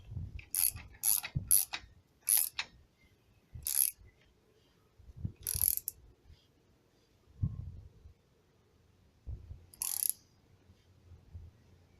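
A ratchet tightens the crank arm bolt on a homemade electric mountain bike, giving several short bursts of rapid clicking spread over the span, with quiet pauses between them.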